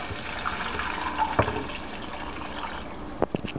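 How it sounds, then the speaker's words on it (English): Water is poured into a microwave bowl of rice and beans, giving a soft, faint continuous trickle and splash with a few small drips near the end. "Then you apply the water."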